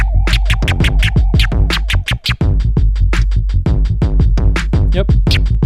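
Turntable scratch stabs cut in quick succession, cycling between quarter-note and eighth-note rhythms, loud and punchy with a brief dropout near the middle.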